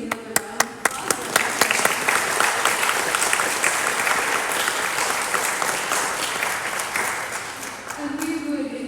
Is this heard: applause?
yes